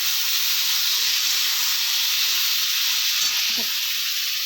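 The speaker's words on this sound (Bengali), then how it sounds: "এরপরে ঝিঙে, কাঁচা লঙ্কা, টমেটো এর মধ্যে দিয়ে দেবো, নাড়াচাড়া করে একটু" Ridge gourd, green chili and tomato hit a hot pan and are stirred, giving a loud, continuous sizzle and hiss throughout, with a brief scrape of the spoon near the end.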